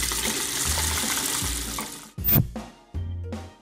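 Running water with splashes, a continuous watery wash that cuts off and resumes in short bursts, heard alone and fairly close.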